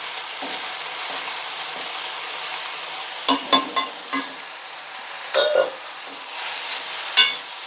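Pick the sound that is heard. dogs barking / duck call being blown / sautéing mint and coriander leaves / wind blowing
sautéing mint and coriander leaves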